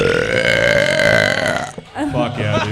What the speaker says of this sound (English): give us one more burp before you go